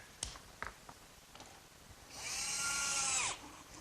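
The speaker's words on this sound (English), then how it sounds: "my electric jigsaw sure makes quick work of finishing up that slot" Faint knocks and shuffling give way to an electric jigsaw buzzing loudly for about a second as it finishes cutting a slot in wood for a workbench, then stopping abruptly.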